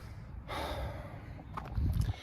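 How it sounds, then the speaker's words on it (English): A mechanic working on a Honda after a transmission replacement breathes heavily at close range, with a sharp intake, a sustained exhale and a louder huffing breath toward the end. "I'm breathing all hard."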